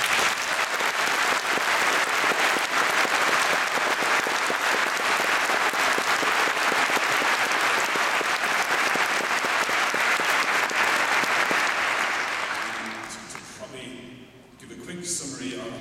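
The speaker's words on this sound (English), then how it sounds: "you guys deserve the biggest clap today, so can everybody else give the graduates?" Audience at an Open University honorary degree graduation ceremony in Manchester applauds the graduates with sustained, loud, dense clapping that fades away near the end.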